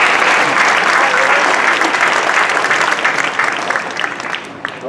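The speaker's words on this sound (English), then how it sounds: "That's worth a clap." Loud, dense applause from a high school graduation audience honoring the adults in the room, a sustained wash of many hands clapping that slowly thins and fades toward the end.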